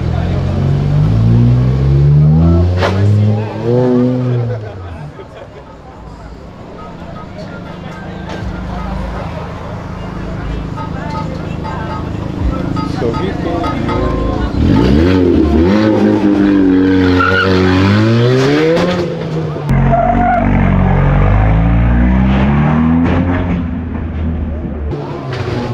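Cars leave a street car meet with loud exhaust revving, rising engine sweeps and squealing tires, while people talk and call out nearby.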